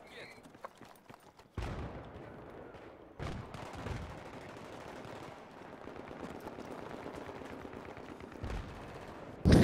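SKS rifle fire in a military shooter video game, scattered sharp reports and bursts among faint background noise, with speech, ending in a loud close shot.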